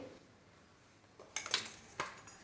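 Chopped vegetables including onion and beetroot being mixed in a bowl for a veg mayo grilled sandwich filling, a few soft clinks and scraping knocks of a spoon against the dish, quiet and close.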